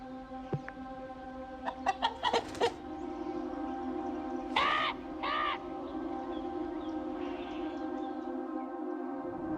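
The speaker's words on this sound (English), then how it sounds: "Mr. Jones of the Manor Farm finishes feeding his hens." Hens clucking and calling in a farmyard henhouse at feeding time, a few sharp squawks and rising calls standing out over a steady background hum, moderately close.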